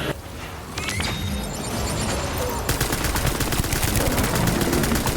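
Rapid gunfire from a firefight in the video game Death Stranding, starting with scattered shots and building into a loud, sustained burst of automatic fire for several seconds.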